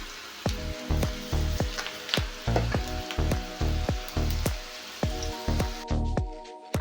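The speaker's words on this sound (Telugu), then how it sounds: "ఆయిల్ అనేది హీట్ అయిన తర్వాత ఈ విధంగా మొత్తం మీడియం ఫ్లేమ్లో కొంచెం సేపు వేయించుకోవాలి" Peanuts for masala peanuts frying in hot oil over a medium flame, with a constant crackling sizzle and a steady rhythm of ringing metal strokes of a utensil against the pan, close by and with no talking.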